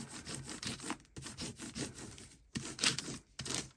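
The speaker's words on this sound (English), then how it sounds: "I'm just going to put it down here where these little sticky dots are, and we're going to rub it in." Material rubbed by hand onto an interior panel of a mermaid-themed junk journal over sticky dots, a close papery scuffing in short repeated strokes with brief pauses between passes.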